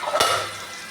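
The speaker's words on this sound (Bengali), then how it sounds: "এবার ঢাকনাটাকে আমি তুলে দেব।" A metal lid is lifted off a pan of pointed gourd frying over a low gas flame: one sharp clink, then a soft steady sizzle continuing close by.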